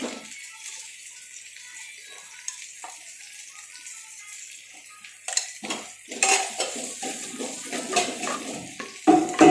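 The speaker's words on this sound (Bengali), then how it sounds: "ভালোভাবে নেড়ে দেখুন নেড়ে দেবো মশলাটা যাতে লেগে না যায়" A spoon scrapes and clatters against a clay pot while chicken masala of ginger-garlic paste is stirred, quiet at first, then louder, busier knocks and scrapes toward the end, with no talking.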